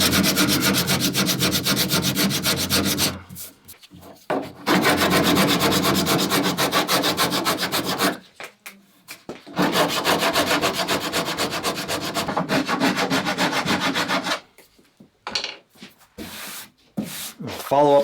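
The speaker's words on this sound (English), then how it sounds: "using a hard sanding stick, I'm going to hit each one of these and just knock them down until I'm almost flush" A hard sanding stick rubs back and forth over wooden cap rails on a Bouchie Dory, loud and close, in long steady rasping strokes with brief pauses between bursts.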